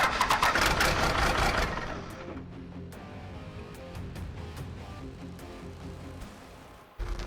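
Cummins diesel swapped into a Jeep cranks and catches in a workshop, a loud rough burst at first that settles into a steady lower idle rumble, with a sharp jump in level near the end.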